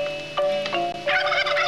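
A turkey gobbles in several rapid, rattling bursts, loud and close, with no talking over it.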